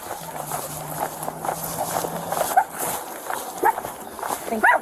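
A police K-9 dog inside a household during a search, heard as a few sharp barks and scuffling movement amid background voices and footsteps.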